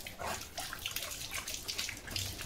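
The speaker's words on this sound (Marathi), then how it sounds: "पे पाणी वाया चाललंय." Water runs steadily from a tap, a soft continuous splashing stream with faint fluctuations, heard alone.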